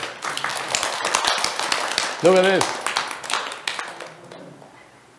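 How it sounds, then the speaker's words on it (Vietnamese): An audience at a Buddhist talk on the Sixth Patriarch Sutra clapping in a burst of sharp, close claps that thins out and fades, with voices speaking and exclaiming over it. "applause is warranted"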